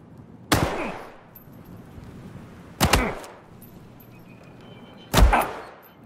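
Three separate gunshot impacts from a video game, evenly spaced about two seconds apart, each a sharp loud crack with a short decaying tail over a faint background hum.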